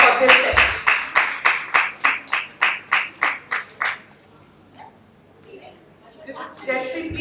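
At a mental health conference, an audience claps in a rhythmic, evenly paced round welcoming a session chair, about a dozen strong beats that fade out, followed by quiet room sound and a voice beginning to speak.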